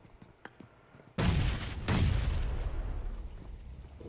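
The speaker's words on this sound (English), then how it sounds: "As nades being thrown out their way." Two heavy grenade blasts in the PUBG Mobile game, each a sudden loud boom with a long rumbling decay, after a few faint clicks and pops.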